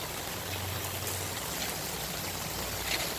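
Rainwater gushes off a roof's gutters onto a flooded street, a steady broadband rush of pouring and splashing water that stays close and constant throughout, with a low rumble underneath.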